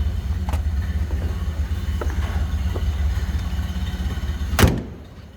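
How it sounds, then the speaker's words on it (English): A 1928 Ford Model A five-window coupe engine runs smoothly at a steady idle, a low even rumble that carries on throughout with a few faint clicks, then one brief louder knock near the end. "Listen how smooth that runs. And just how you'd expect a Model A to sound."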